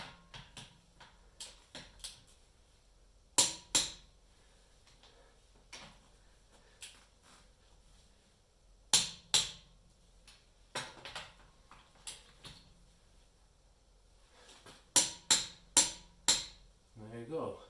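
Car wheel lug nuts being tightened to torque specification: repeated sharp metallic clicks and clacks from a torque wrench, arriving in short bursts with quiet gaps, close by, while a person talks between them.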